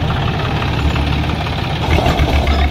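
A 2011 Mahindra 475 tractor engine running steadily, a loud, close, low-pitched diesel rumble with a knocking throb and no talking.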